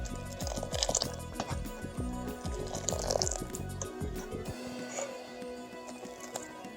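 Green tea kahwa with five green cardamom pods being stirred and whisked in a heating pot for Kashmiri pink tea, with rhythmic scraping and sloshing strokes that stop partway through, leaving quieter simmering.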